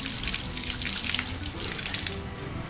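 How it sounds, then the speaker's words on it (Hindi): Hands being washed under a running tap: a steady, close hiss of flowing water with splashy spatter as hands move through the stream, continuous and fairly loud for a few seconds. "मम्मी भी हाथ धो रही है"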